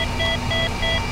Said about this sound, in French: Ah mais pourquoi elle veut pas se casser cette alarme?